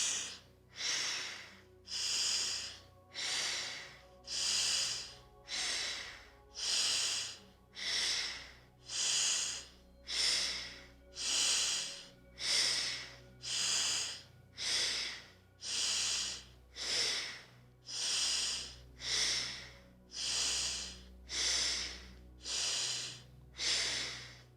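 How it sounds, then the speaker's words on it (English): Fast, deep breathing exercise with full inhales and exhales, rhythmic and close, about one breath cycle per second or so, strong and even throughout with no talk. "We want a pretty fast pace, but we want to make sure the inhales and exhales are with our full lung capacity."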